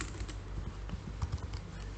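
Keys clatter on a computer keyboard while a command is typed into an Ubuntu terminal, a quick, uneven run of soft close taps with a couple of firmer presses near the end.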